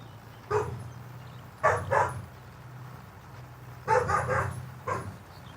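Several dogs bark outdoors on a farm in short bursts, a single bark, then a quick double, later another pair and a last yap, moderately close with quiet gaps between.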